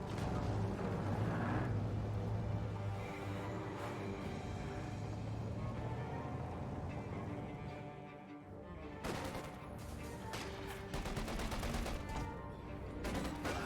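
Gunfire from a Company of Heroes 2 battle between OKW and USF forces rattles in sustained automatic bursts and scattered shots, dense and continuous, easing briefly midway before sharp volleys return.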